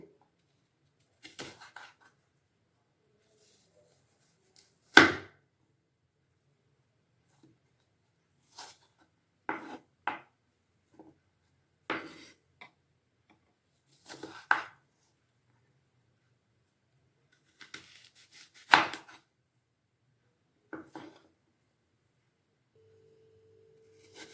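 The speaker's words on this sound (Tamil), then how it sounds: "இந்த நடுக்குள்ள வந்து கட் பண்ணிடணுங்க." A knife cuts through apples being prepared for apple jam, giving sparse, close, crisp chopping and slicing strikes with quiet pauses between them and no talking.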